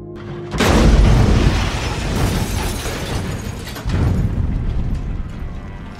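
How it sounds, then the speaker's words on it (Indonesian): A car set on fire explodes: a loud explosive boom bursts out, followed by a roaring, crackling rumble, then a second heavy burst as the blast continues. "Tanner sengaja membakar mobil itu hingga meledak"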